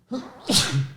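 A single sharp sneeze from a man having an allergy attack during a podcast conversation, a quick intake followed by a loud, hissing burst, close to the microphone.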